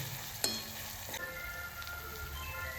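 Onion frying in a pan with chili, cumin, mustard seeds and garlic in a small room kitchen gives a continuous close sizzle, broken by a sharp utensil clink and a few stirring scrapes.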